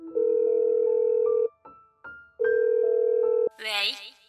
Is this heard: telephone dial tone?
yes